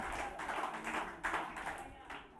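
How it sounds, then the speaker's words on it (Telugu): Audience clapping at a church Christmas gathering, uneven bursts of hand claps rising and falling, fairly distant and quiet, with voices mixed in. "యేసు ప్రభు అని చప్పట్లు కొట్టండి"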